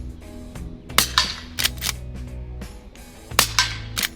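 Lever-action rifle shots from a converted lever gun fired at a steel target on a range, several sharp cracks at irregular intervals with a ringing hum between them.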